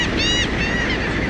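A large flock of birds, thousands strong, honk and call as they fly in overhead, overlapping goose-like cries over a steady outdoor rumble, no voices.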